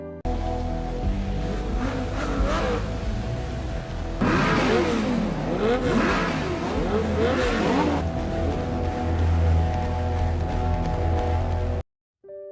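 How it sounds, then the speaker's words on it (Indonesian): Several car engines revving loudly and continuously on both sides of a road as a salute to a passing hearse at a funeral, the roar swelling and rising in pitch around the middle before a brief cutoff near the end. "mobil jenazah diberi suara gerungan mobil dari kedua sisi jalan sebagai bentuk penghormatan"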